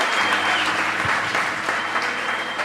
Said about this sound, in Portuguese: Aplauda esta palavra.